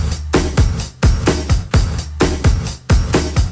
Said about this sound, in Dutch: En dit is met gated reverb.